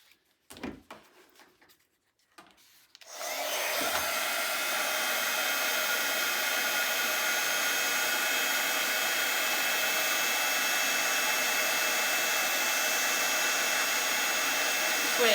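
A heat tool melts black embossing powder on a handmade card, its blower switching on after a few quiet handling noises and then droning loud and steady up close for a long stretch.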